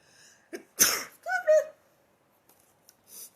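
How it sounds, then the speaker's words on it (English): A single sharp sneeze, close and loud, with a brief intake before it and a few faint vocal sounds after. "Oh, am I sneezing?"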